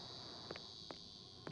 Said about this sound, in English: Oh, I hear me some cicadas.